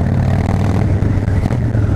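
A 1600 cc Harley-Davidson motorcycle engine runs loud and close at a steady, deep rumbling idle, with a slight surge in the middle and no talking.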